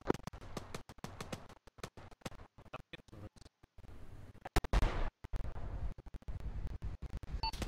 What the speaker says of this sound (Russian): я сейчас по нему буду хуять, сейчас, блядь, с Карла Густава